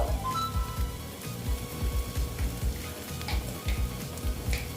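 Okra frying in a pan with cumin powder just added, a steady close sizzle with rhythmic scraping stirs throughout, loud and alone with no voices.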